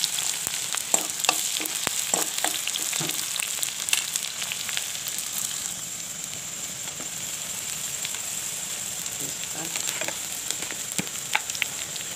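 Ginger and garlic fry in a pan for a chicken curry, giving a steady loud sizzle and hiss with occasional pops and stirring scrapes throughout.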